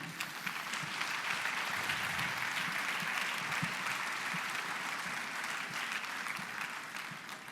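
Sustained audience applause fills the room after a magic trick, a dense even roar of many hands clapping at steady loudness with faint crowd murmur underneath.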